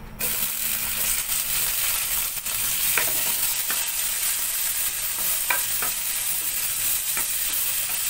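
Onions sauté in oil in a pan with a loud, continuous sizzle and occasional faint scrapes from stirring, close up with no voices.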